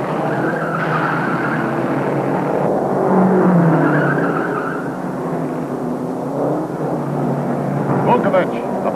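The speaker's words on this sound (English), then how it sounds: "Vukovic about to overtake McGrath, and he takes the lead on the 7th lap" Race cars at the 1952 Indianapolis 500 roar around the track, a continuous far-off engine drone with tire noise that swells and fades as cars pass, under steady commentary from an announcer.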